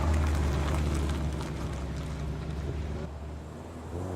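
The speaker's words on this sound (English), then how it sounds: "all those revs into the poor little Renault" A small Renault rally car engine revs hard and steadily with a loud, buzzing drone, easing slightly toward the end.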